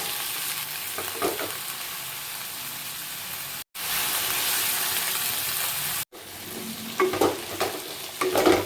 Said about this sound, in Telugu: ఇలా వంకాయ ముక్కలన్నీ వేసుకున్నాక చక్కగా మెదిపేసుకోవాలి అలాగా